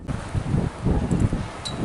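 Strong wind gusts of about 30 miles an hour buffet the outside of an RV, a continuous low roaring rumble that swells and eases, heard from inside.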